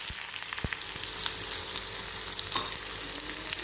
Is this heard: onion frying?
yes